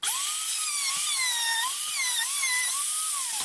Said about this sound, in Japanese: 次で合板の厚さより刃の方を出して合板をカットします。